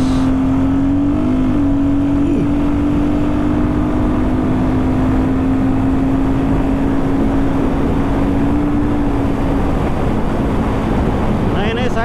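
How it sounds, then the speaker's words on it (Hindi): Royal Enfield Guerrilla 450 motorcycle cruising in sixth gear, a steady engine drone holding one pitch throughout under heavy wind rush and road roar. "छठा गियर पे बाइक डाल दी है मैंने भाई"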